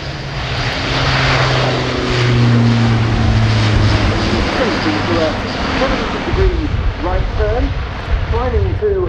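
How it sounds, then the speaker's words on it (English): Airbus A400M military transport aircraft in a flying display at an airshow, its propeller engines roaring loudly and steadily as it passes, with droning tones shifting in pitch toward the end. "From Airbus Defence and Space, the A400M."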